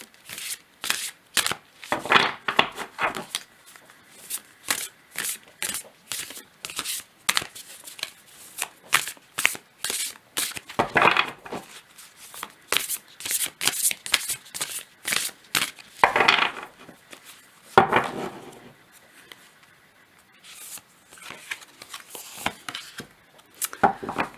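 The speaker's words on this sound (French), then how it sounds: "on va tirer une carte pour commencer" Oracle cards shuffled by hand in repeated quick riffling bursts and taps, close and crisp, with brief pauses between rounds before a card is drawn.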